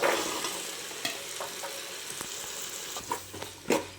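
Green peas, carrots and beans sizzle in a hot pan as they are added, a steady crackling fry with a few sharp clatters of stirring near the end.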